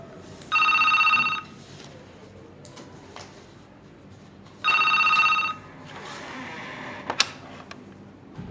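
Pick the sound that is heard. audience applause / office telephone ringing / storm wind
office telephone ringing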